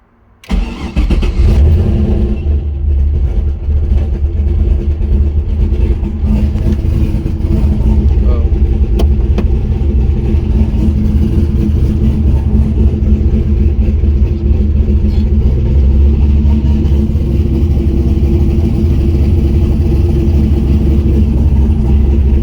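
A car fitted with a CD009 gearbox in a six-to-five-speed conversion cranks and fires up, then holds a loud, steady, close engine drone with slight revving for about twenty seconds.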